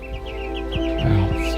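Newly hatched chicks that spent a cold night outdoors give repeated small high cheeps close by, along with a few soft clucking fowl calls and some low handling noise.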